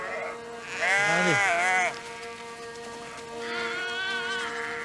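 Sheep on a farm bleat in long, wavering cries, one loud and close, then another a little quieter, over a steady background hum.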